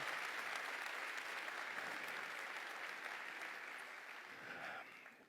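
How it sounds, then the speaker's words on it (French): Audience at a live stand-up comedy show applauding, a dense, even wash of clapping from a crowd that holds steady for several seconds, then thins and fades out, with no voices over it. "Vous pouvez d'ailleurs les applaudir, s'il vous plaît."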